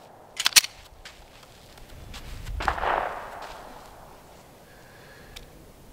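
Glock 19X pistol fitted with a GFLEX binary trigger fires a couple of sharp, close shots in quick succession near the start, then a duller blast follows amid quiet outdoor background.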